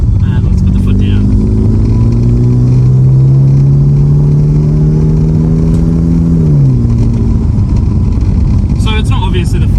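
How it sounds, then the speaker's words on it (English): A 2006 BMW E90 320i sedan in manual mode drops a gear and accelerates hard, its engine note climbing steadily in pitch for several seconds before easing off with a gear change, loud and close with no talking. "I'm going to drop a gear, and let's put the foot down"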